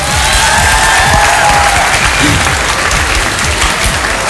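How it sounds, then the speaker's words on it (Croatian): A studio audience at a live show semifinal bursts into loud, sustained applause, dense continuous clapping with faint cheering throughout. "Ja mislim da to zaslužuje aplauz."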